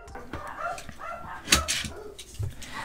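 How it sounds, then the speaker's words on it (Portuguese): Several dogs bark nearby, giving scattered sharp barks and yips mixed with whimpers in an irregular, overlapping chorus. "Olha a cachorrada."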